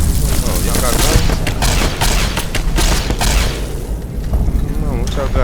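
Rapid gunfire and booming shots from the video game Fallout New Vegas, loud and continuous bursts with a voice talking over them.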